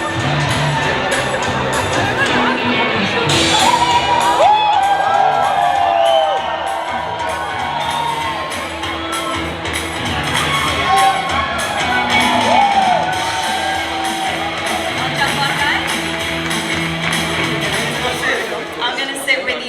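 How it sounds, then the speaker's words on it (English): Crowd cheering and applause at a creators' summit for a speaker taking the stage, a loud sustained roar with whoops and shouts rising and falling over about twenty seconds, voices mixed in. "Round of applause for Hobby."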